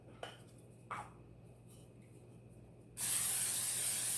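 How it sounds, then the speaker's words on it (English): Cooking spray spritzed into an air fryer basket before crab rangoon are added: two light clinks, then a loud, close, steady hiss that begins abruptly near the end. "first of all, spray your air fryer"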